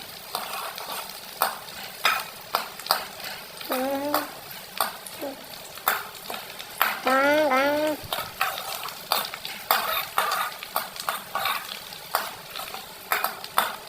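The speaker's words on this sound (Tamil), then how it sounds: "இப்படி கிண்டிக்கிட்டே இருக்கணும்" Chicken fry cooking in a pan with whole coriander sprigs, stirred with repeated clinks and scrapes of a utensil over a low sizzle, with a short animal-like call sounding twice in the middle.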